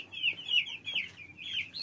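Native chickens clucking close by in a small poultry yard kept with Muscovy ducks, a quick run of short rhythmic clucks over about two seconds.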